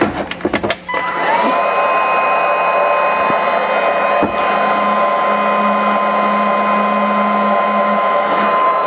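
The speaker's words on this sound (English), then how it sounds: "Then I'm going to hit it with a heat gun again." Electric heat gun blowing hot air onto a soft plastic fishing lure mold, a steady, loud whirring fan roar with a constant motor whine that starts after a few clicks of handling and runs without a break.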